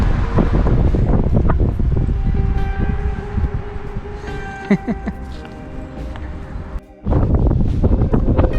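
Blustery wind outdoors on a village lane at Adwick upon Dearne roars and buffets the microphone as a heavy low rumble, easing briefly near the end before gusting back in.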